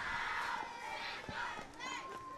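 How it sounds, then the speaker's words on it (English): Football team members at a Christmas parade shout battle cries together, a loud group chant carrying over general crowd noise and scattered cheering in an outdoor street setting. "I think they're battle cries."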